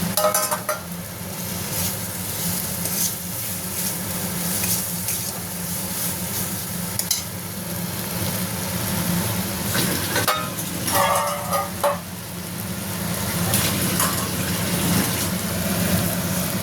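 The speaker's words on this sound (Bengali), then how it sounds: "তেলটা ছেড়ে গেছে, এবার দিয়ে দেবো চিংড়ি মাছ, পটল আর আলু।" Prawns, pointed gourd and potato fry in hot oil with a steady, continuous sizzle, broken now and then by louder stirring scrapes in the pan.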